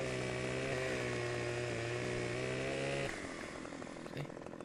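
Game chainsaw from Farming Simulator 15 (Bjornholm map) cutting through a log, a loud sustained high-revving whine that drops sharply to a lower idle after the cut, close up with no talk.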